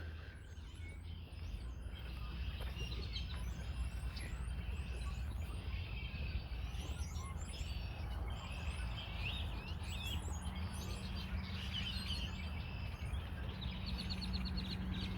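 Grackles and swamp blackbirds chirp, whistle and call over each other from bushes by a pond in Edmond, Oklahoma, a busy, continuous chorus over a low outdoor rumble.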